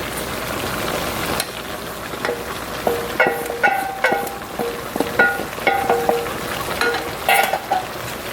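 Green peppers, onions and smoked turkey meat stirred into cabbage frying in a pot, a continuous sizzle punctuated by rhythmic metallic scrapes and clinks of a utensil against the pan, close and clear, without speech.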